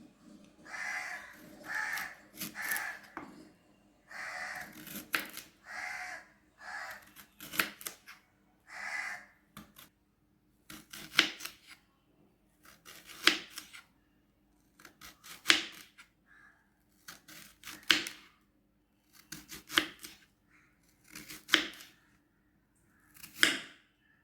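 Knife slicing through a peeled, washed raw plantain for a veg fish curry, a series of crisp, evenly spaced cuts with short pauses between strokes, close and clear with no talking.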